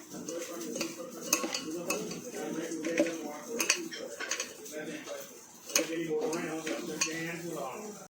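A spoon scrapes and clanks against a pan while dry chilli paneer is stirred with squeezed lemon juice, with steady metallic mixing sounds close up and a faint sizzle underneath.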